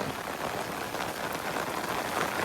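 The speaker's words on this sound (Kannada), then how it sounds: "ಜೋರು ಮಳೆ ಬರ್ತಾ ಉಂಟು" Heavy rain beats down on a paddy field, a constant, thick patter of drops without pause, moderately loud, with nobody talking.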